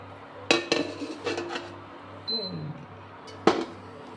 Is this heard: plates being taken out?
yes